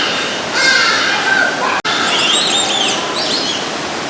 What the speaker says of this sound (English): I keep hearing some bird making a noise.